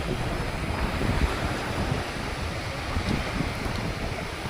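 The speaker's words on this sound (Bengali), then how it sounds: "সেখান থেকে আবার নতুন ঢেউ সাগরের দিকে সাগর থেকে কিনারের দিকে এগিয়ে আসছে" Sea waves roll in and break on a sandy beach at Havelock Island, a steady broadband wash of surf with a soft low rumble and some wind across the microphone, continuous and fairly close throughout.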